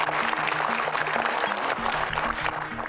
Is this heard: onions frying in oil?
no